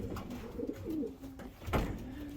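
Several pigeons in a loft give soft, low, repeated coos that overlap one another, close by, with no talking.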